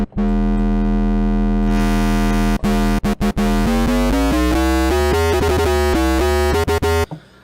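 A loud, buzzy metallic synth bass made in Harmor in FL Studio, with heavy distortion, holds steady, then steps through a series of rising and falling notes, cut by a few brief gaps.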